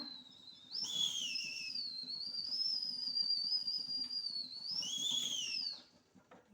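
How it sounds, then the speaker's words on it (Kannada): A pressure cooker whistles while cooking modak, giving off a sustained, shrill, steady whistle that runs for about five seconds with a brief rise in pitch near the end. A faint rumble from the stove sits beneath it. "ನೋಡಿ ಇವಾಗ ಸೀಟಿ ಕೂಗ್ತಾ ಇದೆ"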